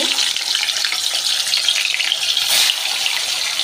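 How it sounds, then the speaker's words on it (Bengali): Paneer sizzling in hot mustard oil with a pinch of turmeric, a steady bright hiss and crackle that continues without pause. "পনিরটাকে আমি ভেজে নেব"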